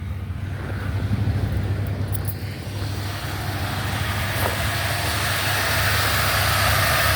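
Buick LeSabre with an HEI distributor and a suspected carburetor fault, its engine running steadily after a restart, a close low idle hum holding throughout and rising a little toward the end, with no talk.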